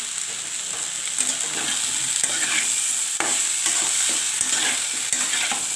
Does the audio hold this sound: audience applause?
no